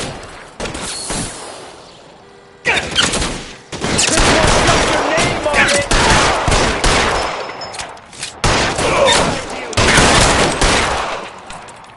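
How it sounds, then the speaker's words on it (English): Heavy bursts of covering gunfire crack and roll through an L.A. Noire shootout, loud overlapping volleys with brief lulls, joined by shouted voices. "Lay down some covering fire."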